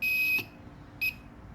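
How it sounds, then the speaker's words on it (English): A DIY steady hand wire game's buzzer sounds twice, near and shrill: a longer electronic tone of about a third of a second, then a short beep after a brief pause. "When it's connected, there will be buzzer and light."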